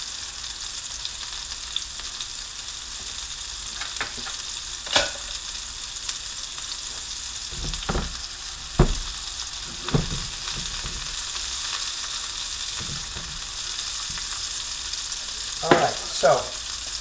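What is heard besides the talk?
meatballs frying in a pan for wedding soup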